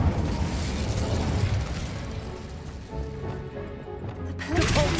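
A fire spell cast in Hogwarts Legacy bursts out as a dense, continuous crackling blast over a rumbling game mix, holding steady for about five seconds before a fresh surge near the end.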